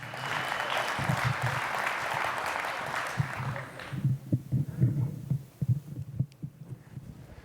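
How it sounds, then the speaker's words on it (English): Luncheon audience at an International Code Council leadership event applauds a volunteer named Kathleen, dense clapping for about four seconds before thinning into scattered claps and brief talk. "give Kathleen a big round of applause"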